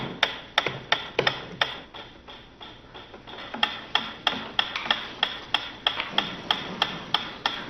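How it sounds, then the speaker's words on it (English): A metronome ticks in an even, steady rhythm, sharp distinct clicks repeating about twice a second against a quiet background, close and clear. "A ticking metronome."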